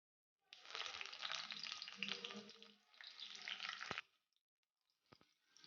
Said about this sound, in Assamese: এতিয়া মই এই পিঁয়াজখিনি ভালদৰে ভাজি ল'ম।